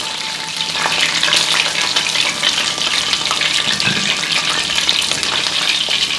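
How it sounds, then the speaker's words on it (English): Chicken pieces deep frying in hot oil for orange chicken, a steady dense sizzle and crackle that holds loud and unbroken throughout with no talking. "want to fry these for at least 7 minutes"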